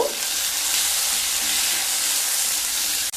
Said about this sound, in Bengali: দিয়ে দেব রাফলি কেটে রাখা দুটো পেঁয়াজ, 6-7 কোয়া রসুন, 1 ইঞ্চ আদা, একটু নেড়ে নেব।